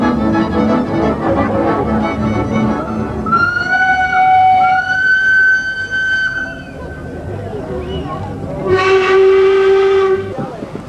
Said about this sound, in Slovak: Tento malý zelený rušeň z roku 1921 je najmenší párny rušeň na Slovensku.